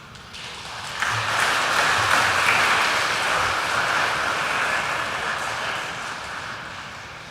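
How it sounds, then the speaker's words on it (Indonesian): An audience breaks into loud, sustained applause for a choir team at an inter-regional choir competition, the clapping swelling quickly and then slowly tapering off. "Sekali lagi kita berikan tepuk tangan yang meriah untuk tim peserta dengan nomor urut 3."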